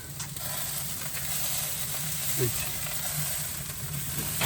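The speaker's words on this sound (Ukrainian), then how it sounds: "Це не готові, ще трошки жаримо, готуємо" Food frying on a barbecue grill, a soft continuous sizzle and hiss with faint metallic clinks, under low background hum and a murmuring voice.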